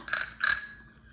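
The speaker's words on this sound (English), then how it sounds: "he got me a bell." Two quick rings of a bicycle bell, bright metallic dings close by, the second one ringing out and fading over a brief moment.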